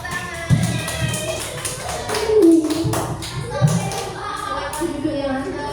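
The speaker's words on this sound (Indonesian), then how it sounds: "Ya, terima kasih tepuk tangan." Children in a classroom clap together, a run of quick, close hand claps that overlaps a teacher's voice speaking Indonesian.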